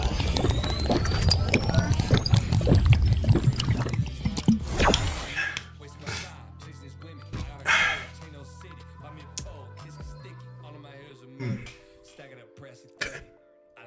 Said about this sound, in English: Let me get some water. I'm thirsty.